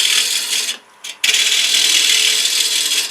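A turning tool cuts and rounds off a wooden bowl blank spinning on a lathe at slow speed, giving a steady, close, scraping hiss that stops briefly near the middle and then resumes.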